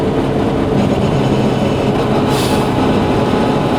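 Subaru Impreza WRC rally car driven on a public road, its engine a loud, dense, unbroken roar that holds steady throughout.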